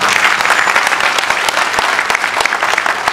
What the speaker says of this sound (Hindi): जोरदार तालियां इन सब के लिए।